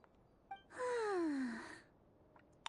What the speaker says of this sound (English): That the sound of a snore?